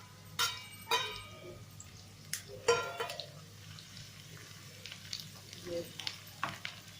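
Garlic sizzles in hot oil in a pan for mustard greens saag, a soft crackling fry close by with a few metal and glass clinks as ingredients are stirred in.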